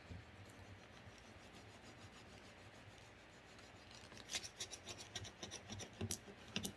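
A plastic scraper rubs a transfer onto a rustic wooden house craft, giving quiet, close scratchy strokes that turn into sharper, rhythmic rasps toward the end.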